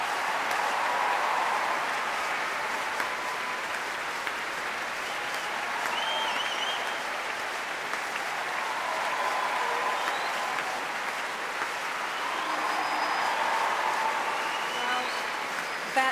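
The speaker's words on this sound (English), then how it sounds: "As the crowd continues to go wild for the National Youth Orchestra" An audience at the Proms gives the National Youth Orchestra a long, sustained ovation, dense applause filling the hall with faint cheers and whistles, while a presenter speaks over it.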